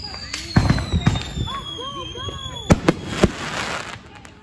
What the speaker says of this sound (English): very loud and very, very booming because fireworks these days are becoming